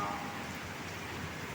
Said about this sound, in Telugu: ఫుల్గా పడుతుంది వాన, మట్టికి ఫుల్గానే పడుతుంది